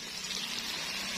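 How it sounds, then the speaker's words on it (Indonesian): Sambal with anchovies (teri) frying in a pan on a stove, giving a close, continuous sizzling crackle with no talking. "Dilanjut iki goreng sambel. Apa nyambel teri pemirsa ya."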